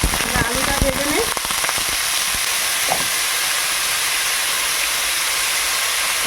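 Potatoes fry in a pan in a home kitchen, a steady loud sizzle and hiss throughout, with a few clinks and handling noises early on.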